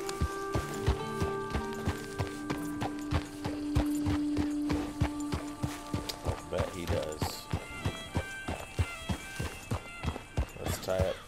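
Steady clip-clop of horse hooves walking at an even pace in Red Dead Redemption 2, with synthesized game music and ambient tones underneath.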